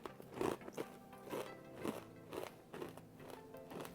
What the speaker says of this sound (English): These chips are so crunchy, and I love a mega crunchy chip.